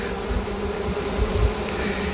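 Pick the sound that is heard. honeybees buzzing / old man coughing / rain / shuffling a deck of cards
honeybees buzzing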